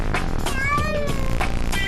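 Cartoonish cat meows in a You Don't Know Jack game round, several rising and falling mews repeated over a steady musical beat, close and clear.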